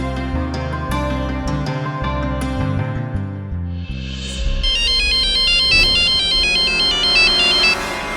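A melodic phone ringtone plays loudly and continuously, its tune shifting midway to a brighter, higher repeating pattern.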